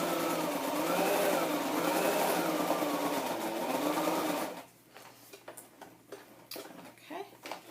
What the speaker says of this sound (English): So I'm doing a zigzag stitch across that embellishment.